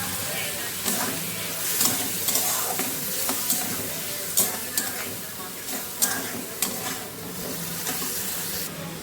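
Mustard, green chilli and ginger paste sizzling in hot oil with a steady crackle, punctuated by repeated scraping stirs of a spoon against the pan, close up.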